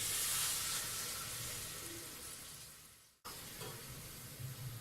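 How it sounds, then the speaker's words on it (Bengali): Hot water is poured from a mug into spiced beef frying with pumpkin, giving a soft steady hiss and sizzle that briefly cuts out and then resumes. "এখানে আমি গরম পানি দিচ্ছি 1 মগ"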